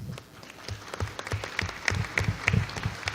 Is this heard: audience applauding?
yes